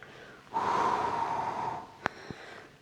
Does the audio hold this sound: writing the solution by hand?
no